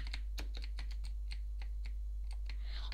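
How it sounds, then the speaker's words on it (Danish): Rapid typing on a new Razer BlackWidow mechanical computer keyboard, a steady stream of close, crisp key clacks at an uneven rhythm over a low constant hum, with no voices. "Undskyld, hvis min tastatur larmer."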